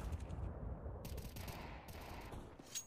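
Gunfire in Counter-Strike on the Dust 2 map: faint, dense bursts of rapid shots, continuous through the clip, with a sharper crack near the end.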